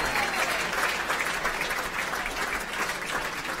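A hall full of guests at a football club's medal night breaks into sustained applause, a loud, continuous roar of many hands clapping together.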